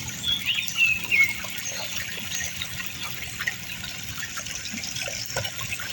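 Floodwater pours into a house in a steady, rushing hiss and splash that runs unbroken and fairly loud, with faint birdsong in the background.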